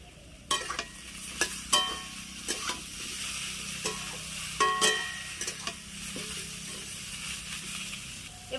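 Ginger and cumin paste frying in a pan for a rohu fish curry, with a soft continuous sizzle and sharp spatula scrapes and taps at irregular intervals, close by with no talking.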